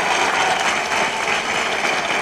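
People at the inauguration of a school in Plan de Iguala applaud loudly for a teacher, a dense continuous burst of clapping that holds steady throughout without talk.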